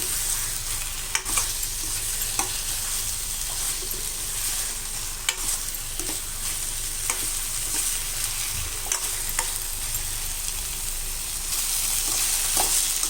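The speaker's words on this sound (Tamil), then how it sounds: "இப்போ இது எல்லாம் ஒன்றா கலந்து வதங்கட்டும்" Steady sizzle of ground masala sautéing in a pan for brinjal gravy, with occasional soft scrapes and clinks of stirring; constant and fairly close, no voices.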